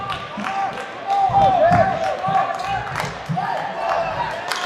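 Spectators at a high school basketball nationals game grow louder and more excited, a rising cheer and clamor mixed with sneaker squeaks and bouncing under close commentary talk.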